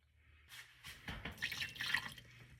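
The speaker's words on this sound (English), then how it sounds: "And then I'm going to get a 1/2 cup of warm water." Warm water poured into a mixing bowl while making a sourdough discard hummus, a quiet trickling and dripping splash that builds over about two seconds, close by, with no talking.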